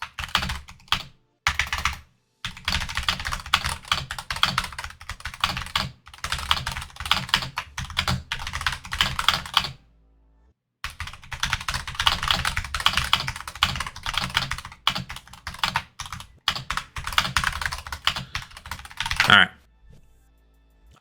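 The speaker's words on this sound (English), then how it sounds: "I'll even type that in." Fast, steady typing clatters on a computer keyboard during a Thursday livestream recap, running in long bursts with a pause near the middle and a brief stop before a final stray keystroke at the end; no voice is heard over the keys.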